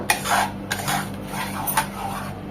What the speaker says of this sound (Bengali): ময়দাটা অবশ্যই খুব ভালোভাবে ভেজে নিতে হবে